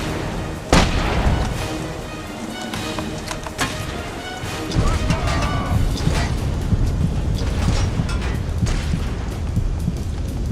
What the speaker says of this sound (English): Shooting started.